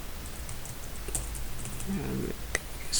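Someone types code on a computer keyboard, soft rapid key clicks pattering close and fairly quiet with a few sharper taps, over a low background hum.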